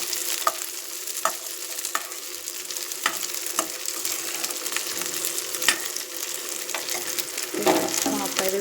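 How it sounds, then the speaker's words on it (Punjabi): Garlic frying in oil for a homemade garlic pickle, a steady close sizzle and crackle with occasional sharp ticks of a spoon stirring the pan, running throughout without speech. "ਇਹਨੂੰ ਥੋੜਾ ਜਿਹਾ ਆਪਾਂ ਇੱਕ ਤੋਂ 2 ਮਿੰਟ ਨੂੰ ਆਪਾਂ ਤੇਲ ਦੇ ਵਿੱਚ ਫਰਾਈ ਕਰਾਂਗੇ"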